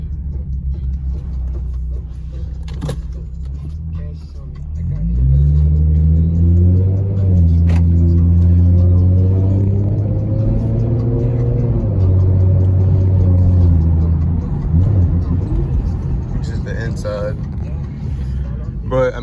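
A 2014 Ford Mustang fitted with a Roush axleback exhaust pulls away and cruises, its deep engine rumble rising and holding steady as it drives, heard from inside the car while it is not yet fully warm.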